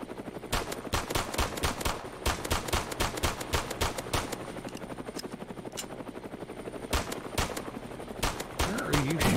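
Rapid bursts of automatic gunfire crackle through a Roblox Mad City gunfight, loud and close, with brief pauses between volleys over a steady droning engine hum.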